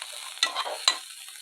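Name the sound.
roasting garlic, ginger, cloves and cardamom in oil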